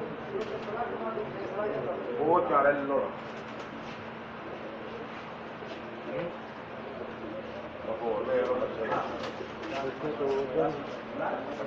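Pigeons, Pakistani breeds, coo in soft repeated bursts amid a busy indoor hum inside a pigeon shop in Jeddah, with people chatting in the background throughout.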